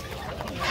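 Clucking chickens at a Baghdad poultry and bird market, short bird sounds over a constant background murmur of the crowded stalls.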